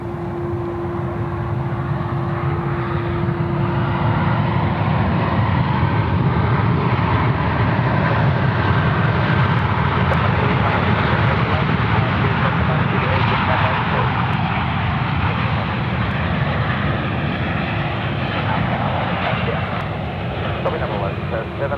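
A royal A320 departs Sydney Airport on runway 16 Left with a loud, steady jet roar that holds throughout, while voices talk over it.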